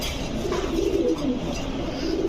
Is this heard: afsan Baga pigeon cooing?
yes